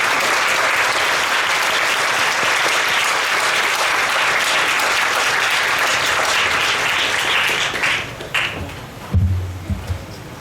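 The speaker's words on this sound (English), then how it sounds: "please join me in, again, applauding our incredible panel" An audience at an outdoor Freedom Day celebration in a park applauds a panel: loud, sustained clapping for about eight seconds, then it thins out into a few scattered claps and bumps.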